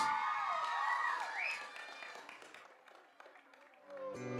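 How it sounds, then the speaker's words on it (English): Cheering and clapping from a school audience at a school performance event, loud at first and slowly fading, with scattered shouts; a brief swell rises near the end. "give a loud round of applause for the soldiers and for this beautiful performance"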